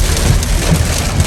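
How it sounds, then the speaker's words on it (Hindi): Heavy rain pours down in a dense, loud, continuous hiss, close by and steady, with no voices over it. "आप लोग आवाज़ से अंदाज़ा लगा सकते हैं कि तेज़ है बारिश काफ़ी।"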